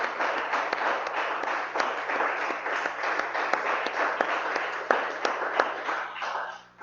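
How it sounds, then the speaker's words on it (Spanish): Church congregation applauding during a Spanish-language service, a continuous dense wash of many hands clapping at moderate distance with a few sharper individual claps, fading slightly at the end. "Vamos a darle un aplauso al Espíritu de Dios en esta mañana,"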